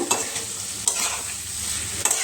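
Chopped potatoes are stirred with masala in a pan, a steady close sizzle broken by a few distinct spatula scrapes against the metal.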